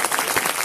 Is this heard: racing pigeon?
no